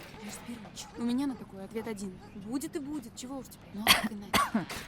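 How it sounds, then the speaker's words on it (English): Voices talk back and forth in the World War 2 survival video game Torn Away, then two short, rough coughs break in near the end over the conversation. "I don't like the sound of that cough."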